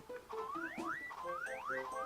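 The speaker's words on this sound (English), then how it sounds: "it changes the sound effect of your hammer swing." A cartoonish hammer-swing sound effect from Paper Mario on the N64 repeats several times in quick succession, each a rising, springy whoop layered over short tonal blips.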